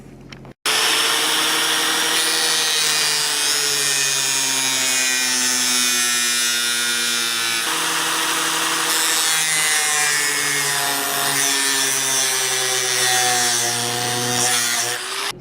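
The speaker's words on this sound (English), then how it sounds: "that's a common example of grinding off your knots there" A power grinder works knots off a log being shaped into a bed frame, a loud, close, continuous whirring abrasion with shifting pitch and a brief break partway through, no talking.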